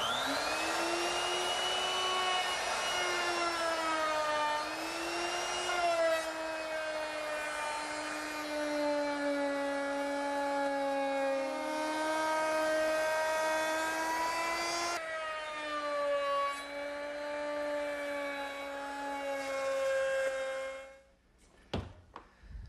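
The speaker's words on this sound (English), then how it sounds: "I'm going to use a 1/2 inch rounding over bit" A router fitted with a 1/2 inch rounding over bit cuts along the edges of a wooden table top, a loud sustained high whine with shifting pitch as the cut progresses, ending in a few knocks.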